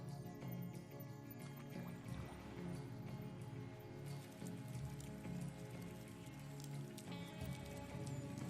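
Rain falls in a rainforest, with steady close drops pattering on leaves and surfaces, and a few louder individual splats standing out from the constant wash.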